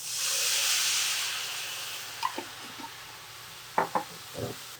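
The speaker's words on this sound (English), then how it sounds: "So I'm gonna deglaze this pan with a little bit of this." A steak pan deglazed with ginger, cayenne and lemon beef broth, letting out a loud hiss of steam that fades over a couple of seconds, followed by a few light knocks and clinks of utensils.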